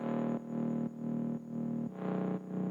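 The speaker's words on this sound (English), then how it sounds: "It sounds like Reese bass, but it's a pad actually" A thick, buzzing deep house synth pad resembling a Reese bass holds low chords that change about every half second, with a gritty, detuned bass-like growl.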